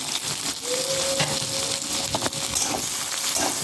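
Onion, capsicum and tomato sautéing in a pan, a steady close sizzle and hiss with faint stirring scrapes and no voice.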